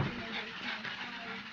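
A Boston Terrier whimpers and yips while chasing a battery-powered toy bat swinging on a string, short close whines over a noisy indoor background.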